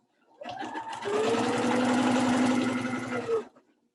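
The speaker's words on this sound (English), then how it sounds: "I'm going to back stitch over top of my stitching." A sewing machine back stitching a reinforcement seam on a quilted Christmas throw pillow, running in one steady mechanical whir for about three seconds and stopping briefly before it ends, with no talking.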